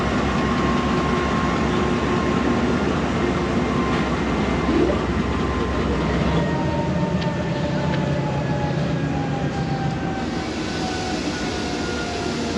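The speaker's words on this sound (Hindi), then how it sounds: "हल्का मूव तो कर रहे हैं जी ब्लू टाइगर को" A WDG-4 class diesel locomotive, number 6013 "Blue Tiger", rumbles steadily as it moves slowly at Padidan railway station, a loud continuous engine drone with a faint tonal whine above it, easing slightly in level near the end.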